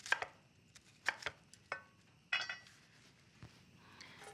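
A knife dices half of a very large onion on a cutting board, giving quiet, close, irregular chopping taps separated by short pauses.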